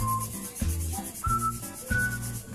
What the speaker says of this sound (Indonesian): bisa dilihat kita amplas dulu ya